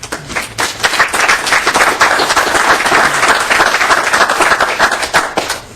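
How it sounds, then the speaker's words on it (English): Steady round of applause from a state House environment, energy and natural resources finance committee welcoming visiting Job Corps students, dense hand clapping held loud and even for several seconds before tapering off. "We'd like to welcome you and give you a round of applause."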